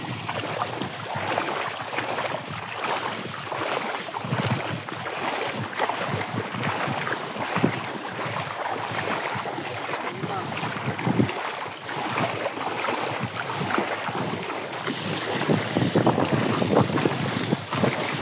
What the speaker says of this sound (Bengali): নৌকা চলে হাতে দেখছেন।